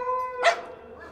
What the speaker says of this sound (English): every single dog in the neighborhood started to bark